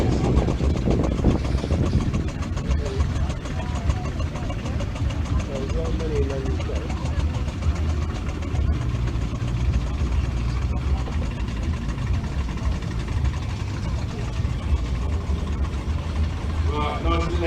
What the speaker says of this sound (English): Right, nice little engine coming in